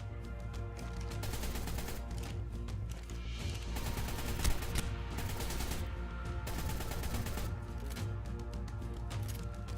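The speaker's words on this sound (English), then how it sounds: "here's why I don't use the assault rifle in PvP anymore" Assault rifle fire in ARK: Survival Evolved PvP combat, with rapid, dense bursts of shots that run almost without a break and are loud throughout, with no talking.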